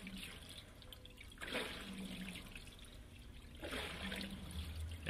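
Water pours into a Speed Queen TR7003WN heavy-duty washing machine on an auto-fill cycle. A steady trickling gushes louder in two surges, close and fairly quiet.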